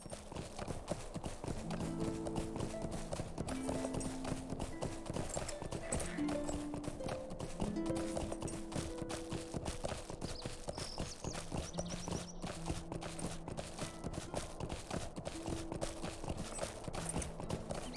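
Horse hooves clip-clop steadily in LOTRO, a brisk regular rhythm running throughout at moderate volume, with a faint game backdrop beneath.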